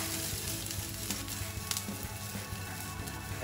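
Basmati rice frying in seed oil with garlic and thyme, a steady close sizzle with soft crackles and faint stirring throughout.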